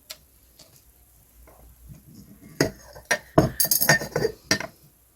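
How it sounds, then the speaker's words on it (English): Small pieces of light blue glass clink and tick together as they are sorted by hand, in scattered light taps that cluster into a busier run of clinks toward the end. "See, this is a wee bit of lighter blue glass."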